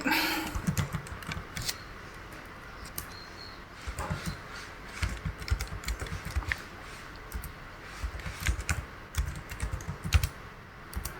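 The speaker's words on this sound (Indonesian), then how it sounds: "kita ketik" Someone types on a computer keyboard while working in a spreadsheet, giving quiet, close-up clusters of rapid key clicks with short pauses between bursts.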